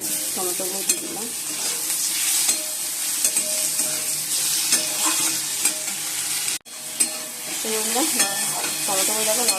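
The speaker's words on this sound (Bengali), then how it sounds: "টমেটো দিয়ে দিলাম।" Chopped tomatoes hit hot oil with frying onions, producing a bright, steady sizzle close up, broken by repeated stirring scrapes and a brief drop to near silence before the hiss resumes.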